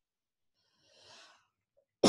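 A person lying on their back exhales slowly during a rib-massage breathing exercise, a soft airy breath of about half a second, followed by a short sharp knock right at the end.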